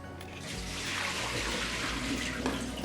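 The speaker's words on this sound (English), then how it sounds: "Now I'm gonna drain that water." Salted water from boiled rustic potatoes drains steadily for about three seconds, a continuous rushing splash of liquid pouring out, close and fairly loud with no talking.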